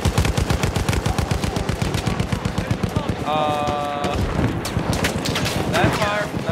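Rapid automatic gunfire rattles in fast bursts in the Battlefield 1 video game, loud and close, followed by more distant shots and battle noise.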